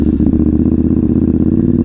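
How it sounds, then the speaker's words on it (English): A KTM Duke 790 motorcycle engine runs very loud and close with a rapid, pulsing throb, a constant heavy rumble that carries on without any talk. "This bike is so fucking loud."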